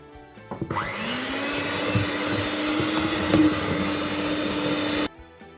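An electric mixer whirs continuously for about four seconds, a steady close hum with a rising pitch at the start, while egg yolks are gradually mixed into a cake batter for a soft layered cake; it cuts off abruptly.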